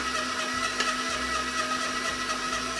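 An electric stand mixer whirs steadily as it beats Polish butter cookie dough, a continuous loud motor hum with a slightly uneven churning throb, heard alone without talk.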